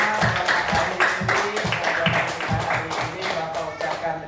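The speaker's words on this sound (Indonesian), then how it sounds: "tepuk tangan untuk kita semua" Classroom applause from a group of students, a dense continuous patter of many hands clapping at steady loudness throughout, with some voices mixed in.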